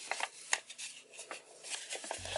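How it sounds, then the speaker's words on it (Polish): A sheet of origami paper being unfolded and creased during the making of a rabbit box, giving soft crinkles and dry rustles in short bursts, close and quiet. "Pierwsze zagięcie dolne, odginamy naszą kartkę."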